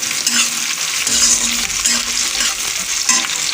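Chilli chicken masala paste, mixed with a little water, frying in a pan to redden, a loud dense sizzle with continuous spatula stirring and scraping, close up.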